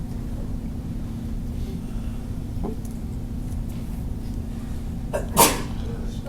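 A single sharp sneeze bursts out near the end over a low, steady background hum.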